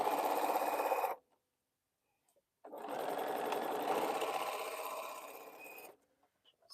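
A sewing machine stitches quilt pieces in two close, steady runs, the first about a second long and the second about three seconds, separated by a quiet pause.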